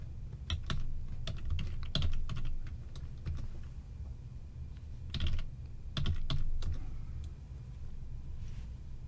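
Keys clatter on a computer keyboard as a terminal command is typed, in quick bursts of clicks with short pauses, close and clear over a low steady background hum.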